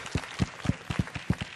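Scattered, sparse clapping from a conference audience at a French hydrogen awards ceremony, a handful of distinct claps in an uneven rhythm, moderately distant.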